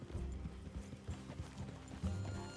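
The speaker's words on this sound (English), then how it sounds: "Let's leave the horses here and take a look." Horse hooves clip-clop in a steady uneven rhythm at close range in the Western video game Red Dead Redemption 2, with faint mechanical rattling and no talking.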